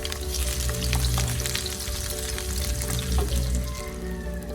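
Garlic sizzling in about two tablespoons of hot cooking oil in a pan for egg adobo, a continuous close crackle with a low steady hum behind it and no talking.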